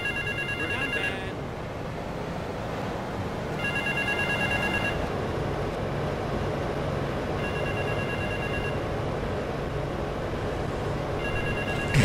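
In the GTA III video game, a telephone rings in repeated short electronic bursts at regular intervals over a constant background rumble of city ambience.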